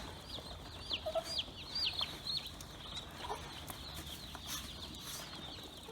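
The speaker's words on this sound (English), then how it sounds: "Whoa! That's a lot of baby chickens." Baby chickens in a brooder give a quick run of high, thin cheeps early on, fairly faint over a low background hiss, with a few scattered peeps afterward.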